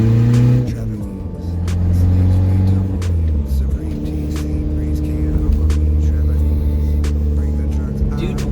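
A turbocharged Volkswagen Jetta's engine drones steadily from inside the moving car, its low rumble shifting in pitch as it accelerates and changes gear.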